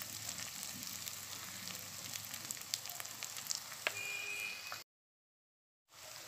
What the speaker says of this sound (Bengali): লঙ্কাটাকেও হলুদটাকে তেলের মধ্যে একটু কষিয়ে নেব।